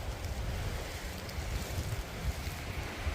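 Storm wind and rain batter a vehicle on a road trip, a dense, continuous rushing roar with gusty buffeting in the low end and no speech.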